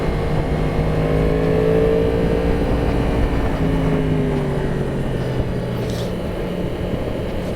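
A 2022 Yamaha MT-10 motorcycle with Brembo brakes being ridden, engine droning loudly and steadily with shifting pitch and heavy wind rush, easing off slightly as it slows toward the end.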